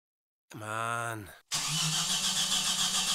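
A car engine cranks with a strained, rhythmic whirring for about a second and fails to catch, followed by a steady broadband rumble; a voice mutters briefly.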